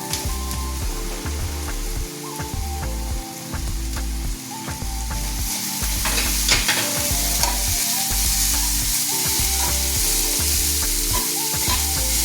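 Cabbage and mixed vegetables stir-fried for veg noodles, a steady loud sizzle with rhythmic scraping and tossing strokes of the spatula throughout, no voices.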